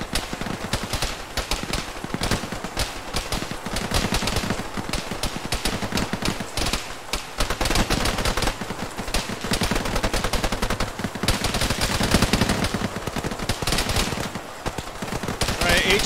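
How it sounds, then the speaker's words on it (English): Dense gunfire and machine-gun bursts from an ArmA ShackTac combat game crackle continuously, loud and rapid, with overlapping shots at varying distances and no pauses. "Keep shooting."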